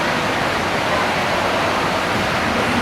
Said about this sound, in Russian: Ну, вот ленивая река это.